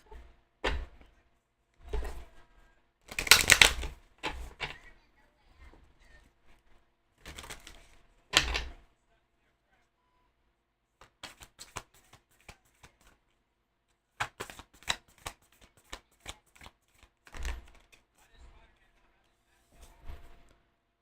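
Moonology oracle card deck being shuffled, with bursts of papery card riffling and tapping separated by pauses, fairly close and moderately loud, no talk over it.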